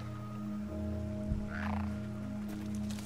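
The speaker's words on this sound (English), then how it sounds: "Hey, the frog." A frog croaks in the video game Unfinished Swan, a single clear croak over a steady, tonal game soundscape, heard alone without talk.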